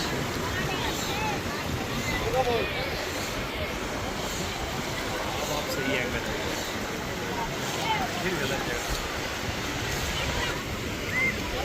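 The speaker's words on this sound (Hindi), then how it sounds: "ये तो पहला समुंदर है" Sea waves break on crowded New Digha beach, a continuous broad roar of surf with wind, heard under the chatter of people nearby.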